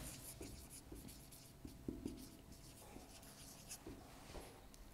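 Pen writing out an answer by hand, with faint scratching strokes and small taps spread across a quiet room, no speech over it.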